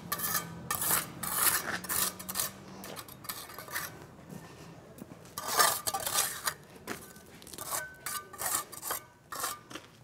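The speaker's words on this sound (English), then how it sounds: "Now we remove this excess mortar." A trowel scrapes excess cement mortar off a freshly laid brick wall in a run of rough, gritty, rasping strokes, close by and fairly quiet, with no talking.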